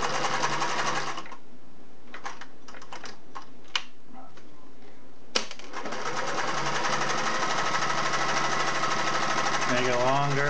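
A Singer Model 401A sewing machine stitches with a loud, steady mechanical whir, pauses for a few seconds with scattered clicks and knocks, then starts again in a long, even run.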